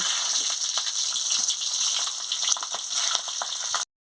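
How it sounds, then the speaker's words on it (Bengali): Black cumin, five-spice seeds and green chilies crackle in hot oil in a kadai, a loud continuous sizzle with sharp pops that cuts off abruptly near the end. "কড়া গরম হয়ে গেছে, আমি তেল দিয়ে দিচ্ছি। কালো জিরে আর 5 ফোড়ন দিয়ে দিচ্ছি। কাঁচা লঙ্কা দিয়ে দিচ্ছি।"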